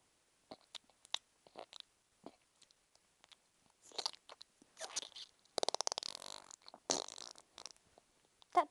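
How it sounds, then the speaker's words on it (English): A comedy skit fart sounds as a buzzy, rapidly fluttering burst in the middle of the clip. Scattered crunchy chewing and mouth noises come before and after it, close and fairly quiet. "Sorry, I farted."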